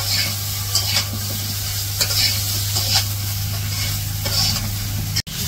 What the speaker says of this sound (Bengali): পটল গুলা তেলে কড়াইয়ের মধ্যে দিয়ে দিছে, তারপরে হলুদ মরিচ লবণ সবকিছু দিতেছে